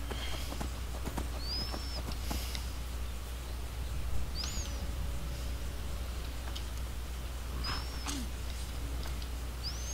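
Horse hooves clip-clopping in the video game Skyrim, a faint steady patter under a constant low hum, with scattered chirping bird calls.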